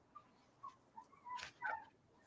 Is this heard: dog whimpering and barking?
yes